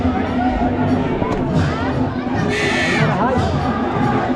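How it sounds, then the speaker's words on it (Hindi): A dense crowd at the Nanda Devi fair by Saneti temple, a steady hubbub of many voices and distant shouts with a brief burst of cheering, close and continuous throughout. "काफ़ी ज़्यादा भीड़ है यहाँ भी"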